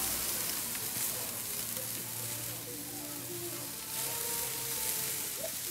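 Food sizzling on a Costco Smoke Hollow barbecue grill after a brushed-on glaze, a steady crackling hiss that stays even and moderately quiet throughout.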